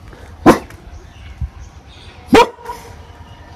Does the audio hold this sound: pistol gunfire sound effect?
no